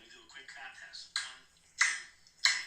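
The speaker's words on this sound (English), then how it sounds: "So let me do a quick clap test. 1, 2, 3." Three sharp hand claps, spaced roughly evenly and ringing briefly in a room, following quieter talking at the start.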